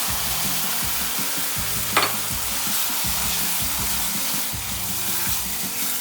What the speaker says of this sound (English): Add coconut milk to this.